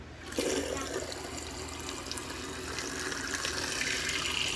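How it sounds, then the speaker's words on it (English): Water from a tap gushes on abruptly and keeps pouring in a steady, fairly loud rush into a sink. "gonna turn on the water. The water's gonna be running the whole portion of this"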